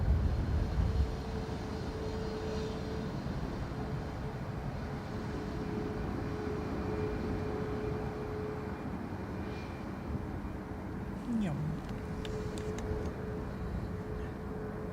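Airbus A320 taking off from Dublin Airport on a windy day, a steady distant jet roar with a faint tonal whine held throughout, low and even in level.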